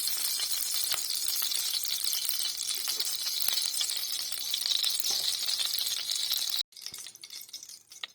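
Ghee in a hot pressure cooker on the stove, ready for tempering mutton biryani spices, gives a steady close hiss and crackle with faint clinks, cutting off abruptly near the end.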